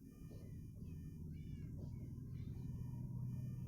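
A cat in Minecraft meows a few times in soft, drawn-out calls over a constant low background hum, the game audio sitting faint and distant.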